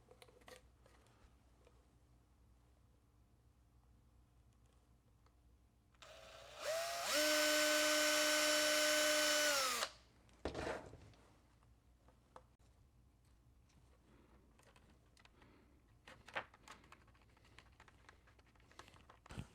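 A power drill whirs for about three seconds, driving a screw into a door hinge, rising in pitch then cutting off, with light clicks and handling noises around it in a quiet room.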